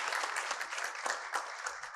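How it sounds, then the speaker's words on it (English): An audience at a CEO forum session claps for a speaker, a steady patter of many hands that stays even throughout with no talk. "A round of applause, please,"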